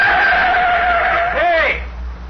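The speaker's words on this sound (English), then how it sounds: "Hey, what's the car doing? He's coming right out on the field." Tires squeal loudly as a car skids onto a rocket launch field in an old radio drama, a long sustained screech that bends and rises near the end over an engine rumble before fading.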